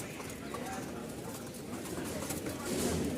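A pair of fancy pet pigeons coo softly and faintly, low and close, with a quiet voice murmuring in the background.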